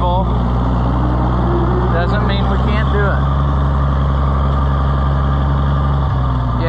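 An Oliver 500 tractor engine runs steadily at close range with a loud, low chugging drone while a person talks over it.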